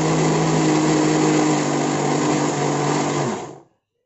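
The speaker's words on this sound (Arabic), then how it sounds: "ابتدي اشغل الخلاط عليه" An electric blender whirs steadily at high speed, mixing a homemade sweetened condensed milk, loud and continuous for over three seconds before switching off and falling silent.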